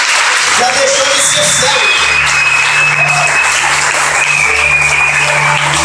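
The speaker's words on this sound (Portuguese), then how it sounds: "Eu queria que você aplaudisse Jesus bem forte" A church congregation claps loudly and steadily during a worship service, a dense continuous wash of applause with a voice speaking briefly over it.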